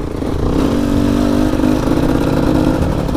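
A motorcycle engine drones steadily while riding through the rain, a close, loud, even hum with a slight rise as it pulls, holding constant for several seconds without speech.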